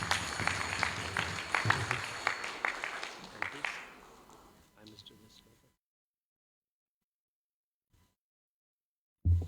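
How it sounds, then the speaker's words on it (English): An audience at a college graduation ceremony claps for a woman being honoured, a crowded patter under talk that fades out within a few seconds, followed by near silence. "Give Auntie Marjani a wonderful round of applause."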